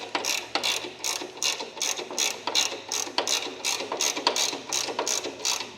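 A ratchet clicks in a fast, steady run of sharp ticks while it is tightened to lock down the pedal on a big old creeping machine. The ticking is close and fairly loud, with a low hum underneath.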